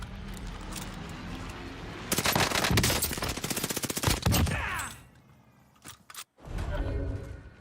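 Rapid automatic gunfire in Call of Duty Warzone, a loud sustained burst of shots followed by a pause and another stretch of firing, with game effects in the mix.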